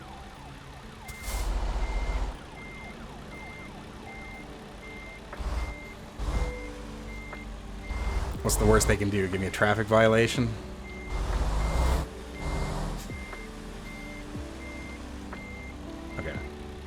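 A truck in American Truck Simulator backs in from the street with steady, repeating reversing beeps running through the whole stretch, joined by engine rumble and passing siren-like tones while a person talks over it.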